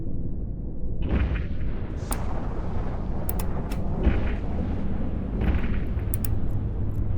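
Starship weapons firing in EVE Online during an orbit attack, a steady rumbling roar punctuated by several sharp bursts and booms at irregular intervals, loud and continuous with no voices.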